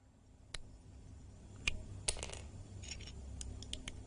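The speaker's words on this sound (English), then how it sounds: "it's just like someone just clicking Legos together like they're building them" Lego bricks clicking together as if someone were building, with sparse, sharp plastic clicks and taps spaced irregularly over a quiet background.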